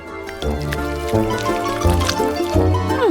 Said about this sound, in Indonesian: Aku akan mengumpulkan coklat ke dalam kaleng.